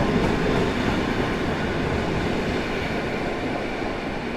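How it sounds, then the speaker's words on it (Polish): Polregio Stadler FLIRT train moving through Warszawa Zachodnia station, a loud, continuous rolling rumble and hiss of wheels on rails heard nearby, with no one speaking. "Polregio z Warszawy Głównej do Ostrowa Wielkopolskiego."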